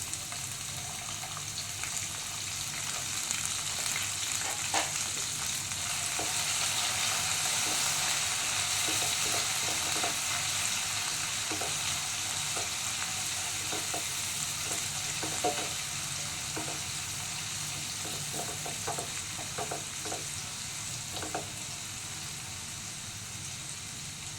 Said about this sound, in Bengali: আচ্ছা একটু নাড়াচাড়া করে দিয়ে দিলাম পেঁয়াজগুলো